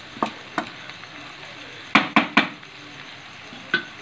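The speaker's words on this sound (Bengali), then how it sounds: "এই পর্যায়েতে আপনারা একটু ওকে ঘেঁটে দেবেন, ঘেঁটে দিলে তরকারিগুলো সেদ্ধ ভালোভাবে হবে।" Mixed vegetables frying in oil for a coconut prawn curry get stirred in a pan: soft sizzling beneath a few sharp spoon scrapes and knocks, a quick cluster of three midway and one more near the end, close by, no talking.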